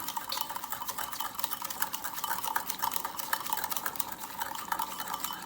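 A spoon stirs cocoa powder and milk into chocolate frosting, making a steady, rapid scraping and clinking against the bowl throughout, close and continuous with no speech.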